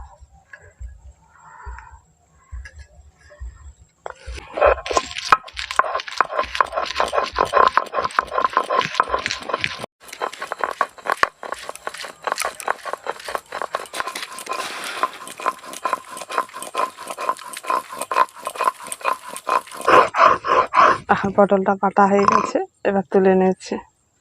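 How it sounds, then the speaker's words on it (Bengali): Pointed gourd ground together with three green chillies, chopped onion and garlic, a dense, continuous rough grinding with rhythmic strokes that starts after a quiet opening, runs loud for most of the stretch and stops near the end. "এবার আমি এই পটলগুলোকে বেটে নেব তার সাথে আছে তিনটে কাঁচা লঙ্কা আর পেঁয়াজ কুচি আর রসুন কুচি এগুলো একসঙ্গে সব বেটে নেবো"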